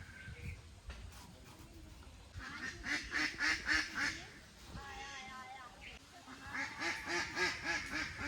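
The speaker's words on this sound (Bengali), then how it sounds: "মা হাঁসগুলোকে ডাকছে কি সুন্দর সারা নিচ্ছে দেখো হাঁসগুলো" Domestic ducks quacking in reply to being called, repeated nasal quacks in rhythmic bursts from a nearby group, with a pause between two runs of calls.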